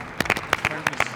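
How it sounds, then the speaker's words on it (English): A few people at a football session clapping for a player's shot, a short scattered round of close handclaps, about six distinct claps. "He's even got Newcastle players behind the camera applauding him."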